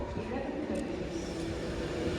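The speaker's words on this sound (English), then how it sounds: "The train now arrives platform 1" Steady low rumble of an 11-coach train rolling into platform 1 at Stoke-on-Trent station, continuous and fairly loud, with a faint hum of the platform around it.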